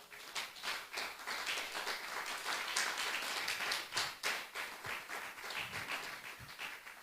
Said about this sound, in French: That we have clapped for